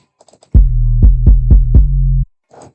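Deep 808 bass in a smooth R&B beat, booming sustained notes with several punchy retriggered hits that step up in pitch, loud and upfront between brief quiet gaps.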